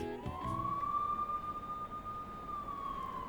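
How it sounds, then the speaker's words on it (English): Police car siren in the video game Persona 5 Royal: one steady, sustained wail holding a single pitch over a constant rumbling city background, loud and continuous throughout with no talk. "Look at all those police cars."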